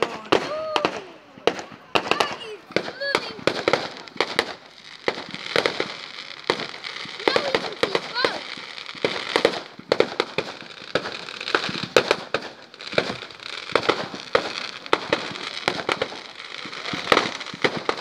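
Fireworks pop and crackle in rapid, dense volleys through the whole stretch, mostly at middle distance, with people's voices and crowd chatter mixed in throughout.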